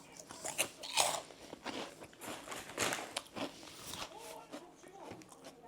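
Crunchy snack being bitten and chewed up close, with repeated crisp crackling bites and rustling over about six seconds while someone talks.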